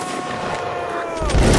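Musket volley fire in a Napoleonic Wars line battle game, a dense continuous crackle of many shots blending into a loud sustained roar that swells near the end.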